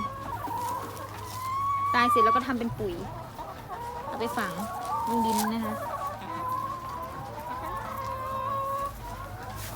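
Laying hens on a small egg farm cluck in short, uneven bursts around someone speaking Thai close by, with one louder squawking flurry near the start.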